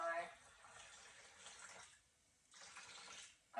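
Filtered water is poured for making almond milk, a faint splashing trickle in two short pours separated by a pause, with a voice talking over it.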